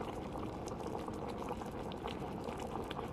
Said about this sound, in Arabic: شايفين جالس يغلي